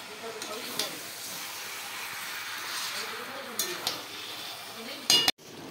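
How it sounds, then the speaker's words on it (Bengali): Meat being slow-fried as kosha in a pan, a steady soft sizzle with occasional stirring and the clink of a spoon against metal, close up and fairly quiet. "এখানে মাংস কষা চলছে।"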